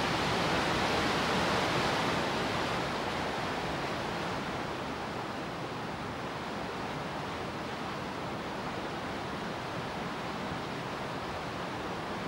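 The Bambarawel stream flows through wet rainforest in the Sinharaja area, a continuous rushing wash of water that stays steady and fairly loud throughout, with no voices.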